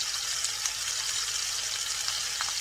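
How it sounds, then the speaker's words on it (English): Quarter-inch-thick slices of beef stir-frying in a hot pan for a vegetable stir-fry, giving a steady, dense sizzle close by with small crackles and no talking. "We need to warm up, cook the beef first."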